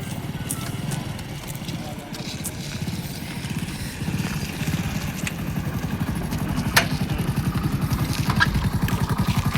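A motorbike engine runs close by with a steady low throbbing putter, continuous and fairly loud throughout, with faint clatter on top.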